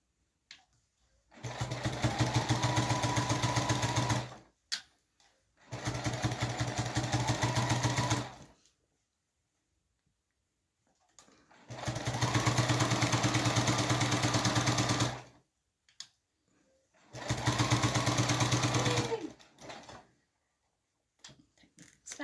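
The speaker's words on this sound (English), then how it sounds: "I'm just sewing all the way to the, not quite to the edge, just to the edge." A sewing machine runs in four long bursts, stitching a Christmas stocking panel, each run a steady close whirring hum with brief silent pauses between them.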